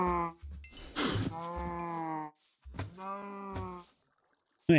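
Two drawn-out, bleating Minecraft cow moos with chewing and snuffling sounds between them as they eat, close and fairly loud, with no talking.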